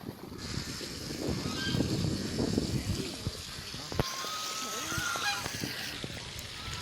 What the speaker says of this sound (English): So these are the ducks.